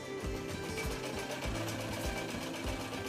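A sewing machine runs at a USHA sewing school in a village in Leh, its needle mechanism chattering in a fast, steady rhythm with regular low thumps, close and alone.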